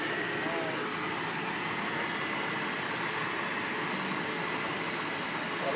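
A 1989 Mercedes-Benz 300SE with a 3-liter inline six idles in a smooth, even, steady hum that holds at moderate level throughout.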